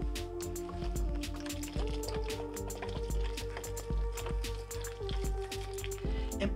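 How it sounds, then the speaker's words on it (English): Water pours and trickles into the soil of a freshly backfilled potted ginger plant, a soft steady splashing and dripping beneath a constant low electrical hum. "give it a good watering"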